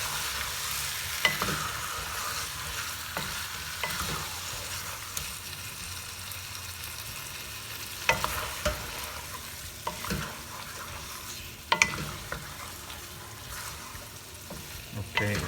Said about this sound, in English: Stir this around.